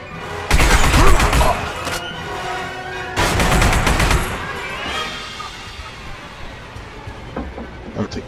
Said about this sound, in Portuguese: Metralhadora.